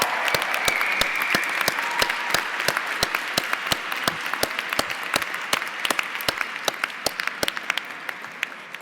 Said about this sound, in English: Let's give a round of applause for these amazing students.